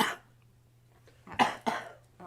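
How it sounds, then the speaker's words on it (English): Several sharp coughs from one person, a single burst at the start followed by two close coughs and a softer one near the end, nearby and clear in a quiet indoor craft workspace. "Coughed on that one."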